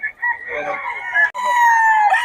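A rooster at a backyard poultry coop crows loudly and close, one long, bright call that breaks off and then resumes, alone without talk.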